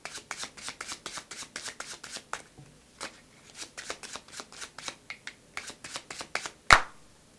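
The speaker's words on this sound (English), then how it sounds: "Overhand shuffling looks like this." Rapid riffling clicks of playing cards being overhand shuffled as a false shuffle, in quick bursts with short pauses, close and fairly quiet, ending with a sharper snap.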